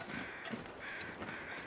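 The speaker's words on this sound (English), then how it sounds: "I'm hearing the crows" Crows caw in a survival video game, several rasping calls in two close bursts, set against steady ambient wind noise.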